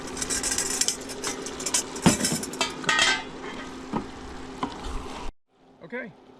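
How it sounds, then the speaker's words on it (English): Carolina Smokies sausages frying in sofrito in a pan for black beans, a crackling sizzle with occasional utensil clicks and stirring knocks, close and moderately loud, ending abruptly in near silence with a faint voice. "The Carolina Smokies are cooking up nicely."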